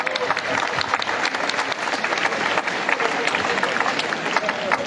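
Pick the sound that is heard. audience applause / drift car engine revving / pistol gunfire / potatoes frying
audience applause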